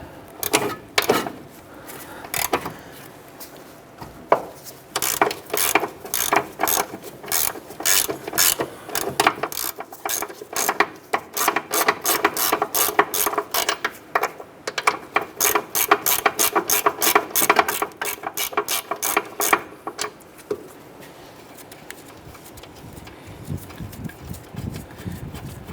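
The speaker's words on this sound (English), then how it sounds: "Using a 17mm socket, we're going to go ahead and remove our upper ball joint nut" Ratchet with a 17mm socket turning off an upper ball joint nut on a 2008-2012 Honda Accord during front strut replacement, with rapid close clicking in repeated bursts that speed up and then stop.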